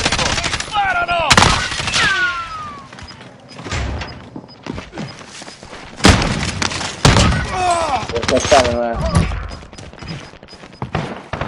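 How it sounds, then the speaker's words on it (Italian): Shooting in a PS4 online shooter: repeated loud, punchy gunshots and thuds mixed with bursts of fire, while players talk excitedly over the action. "Sparano!"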